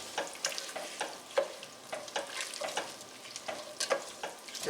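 Chicken fricassee is stirred and sautéed in a pot over a medium flame. A soft, steady sizzle runs under repeated scraping strokes of the spoon, fairly faint and close.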